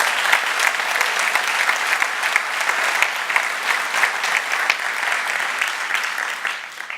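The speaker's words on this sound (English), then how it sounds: "so let's give them a big round of applause" A keynote audience gives the event organizers a round of applause, a thick, steady wash of many hands clapping that carries on for about seven seconds and tapers slightly at the end.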